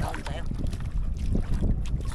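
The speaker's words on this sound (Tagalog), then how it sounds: "Ang hangin." Strong wind buffets the microphone with a steady low rumble during a storm at sea, with faint voices and water sounds underneath.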